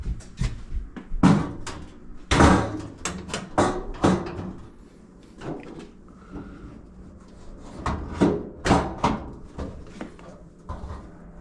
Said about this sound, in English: Let's put this door back on now.